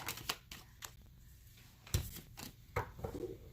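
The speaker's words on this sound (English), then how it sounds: "Oh, I'm shuffling upside down." Tarot cards being shuffled by hand at close range, a few soft riffling bursts and sharp flicks separated by quiet pauses.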